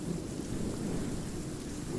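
Thunderstorm sound effect, a dense rumbling roar of thunder blended with steady rain, loud and continuous with no speech.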